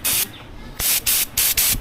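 Cooking oil spray can releasing several short hissing bursts, one long spray followed by three quick spurts in a row, close and loud with a brief pause between.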